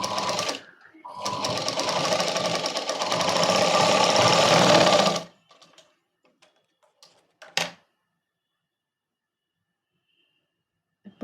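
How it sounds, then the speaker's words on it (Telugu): A sewing machine stitching a princess cut blouse runs in a loud, steady whir for about five seconds, then stops, followed by faint handling clicks and a sharp knock in an otherwise quiet room. "సో నేను మళ్ళీ స్టిచ్ చేయడానికి ట్రై చేస్తున్నా."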